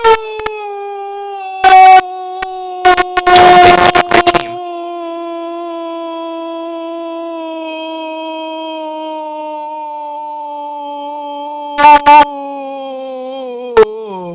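A cartoon dog in an animated web series lets out a long, loud, drawn-out howl that holds steady for over ten seconds, with brief bursts of other noise near the start and toward the end.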